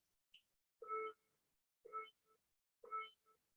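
A workout interval timer sounds three times at even spacing, each a short electronic buzz with a brief trailing beep. A tiny chirp comes just before the first buzz, and the room is otherwise quiet with no talking.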